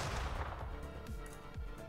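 Geo-cannon blasts from The Last Spell's Dwarves of Runenberg update: a couple of heavy, booming low thuds over a dense, continuous game soundscape, with no talking.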